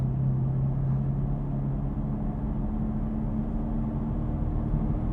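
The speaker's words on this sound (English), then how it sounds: "you can hear the car gradually changing up through the gears" A car with a dual-clutch gearbox and a fruity exhaust hums as a steady low drone while it accelerates, with a faint shift in tone mid-clip, heard from inside and without talk.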